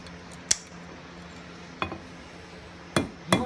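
A rounding hammer strikes a metal key ring on a hard surface, four sharp metallic blows spaced irregularly, close and clear with no talking.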